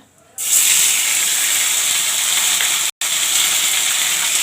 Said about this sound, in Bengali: এই যে ফোড়নটা দিয়ে দিচ্ছি